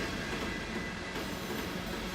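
Rail cars and locomotives rolling steadily in Run 8 Train Simulator, a continuous dense rumble and rattle with no distinct clicks, moderately loud and even throughout.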